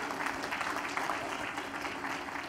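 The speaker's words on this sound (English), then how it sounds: "Clap like you mean it." Church congregation claps during a Mother's Day service, a continuous, fairly even patter of many hands heard from within the room, with no voices over it.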